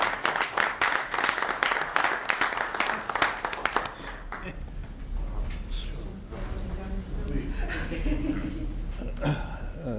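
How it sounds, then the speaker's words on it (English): Applause from attendees at a village board meeting: a burst of close, brisk clapping for about four seconds, then fading as a voice begins talking over light room noise. "applaud for you"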